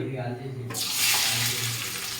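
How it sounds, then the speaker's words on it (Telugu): Onions dropped into hot oil in a home kitchen while making chicken curry, bursting into a loud, sudden sizzle that hisses steadily afterward. "అయితే వేడెక్కింది, దీంట్లో ఉల్లిపాయలు వేసుకుందాం"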